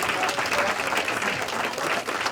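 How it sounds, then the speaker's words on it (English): A crowd applauds for leaders at a recognition event in New Jersey, dense continuous clapping at full strength from start to finish. "So clap it up."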